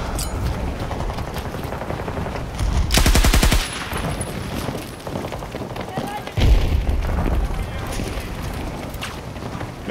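Loud sustained machine-gun bursts and booming blasts, including a grenade explosion, in the Battlefield video game, with heavy low rumble and repeated fusillades over continuous combat noise.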